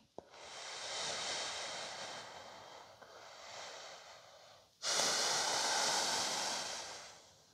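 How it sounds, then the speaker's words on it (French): Slow, deep breaths during a yoga pose in a holistic flow session, airy inhales and exhales close to the mic, with a louder, fuller breath near the end and no talking. "On reste là pour 3 grandes respirations."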